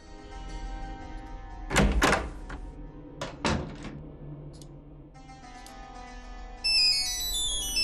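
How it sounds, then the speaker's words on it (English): A cell phone ringtone in the Nancy Drew game The Curse of Blackmoor Manor enters near the end as a bright, repeating melodic chirp over a low ambient hum, after a few heavy thuds earlier. "There goes my cell phone."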